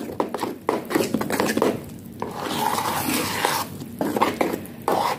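Scalded cozonac dough being mixed by hand in a bowl after baking powder is added, giving close, irregular squelching, scraping and rubbing strokes that run continuously with brief pauses and no talk.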